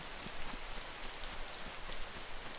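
Rain falls steadily in a video game, a dense, even hiss of drops that stays constant and fairly soft throughout, with no voices over it.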